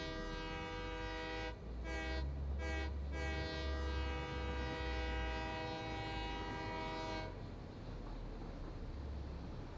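A video-game train in Satisfactory sounds a long steady horn for several seconds, briefly interrupted near the start, over a continuous low rumble of the running engine and wheels.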